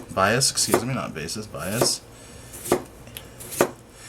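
A knife slices a peeled cucumber into rounds on a cutting board, sharp chopping taps in a quick run and then a few spaced cuts, with a person talking over the first half.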